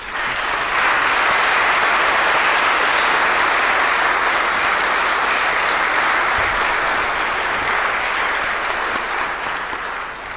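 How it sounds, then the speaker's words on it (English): A big commencement crowd applauds family and friends at a 2019 systems engineering graduation, a sustained roar of many hands that swells in and holds strongly for about ten seconds. "I think we need a round of applause for all of the family and friends who have supported all of you"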